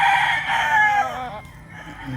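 A rooster at a game fowl farm lets out a loud, close crow that trails off after about a second, followed by quieter farm ambience with faint fowl sounds.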